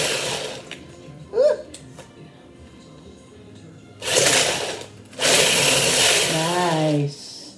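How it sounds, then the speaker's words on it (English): An electric mixer with its whisk attachment runs in two loud bursts, a shorter whir then a longer steady one with a rising and falling pitch, in a home kitchen while someone speaks quietly between them. "this is the first time I'm using the whisk part"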